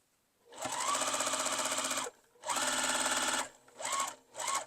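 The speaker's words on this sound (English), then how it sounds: "And then I'm going to put one on here and sew." A sewing machine stitches pieces of a quilted coffee-cup mug rug, running in four close bursts, two long and two short, with brief pauses between them.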